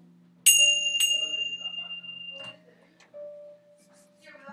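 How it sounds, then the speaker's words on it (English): Small hand bells rung together during evening prayers, giving two bright metallic strikes near the start that ring out and fade over a few seconds, with soft further chimes and a faint voice in the background. "And now we ring our little bells for unity and peace."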